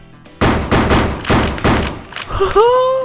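Heavy shotgun blasts in the Teardown video game hit a dump truck: five loud, booming shots spaced about a third of a second apart, then crumbling debris and a rising whine.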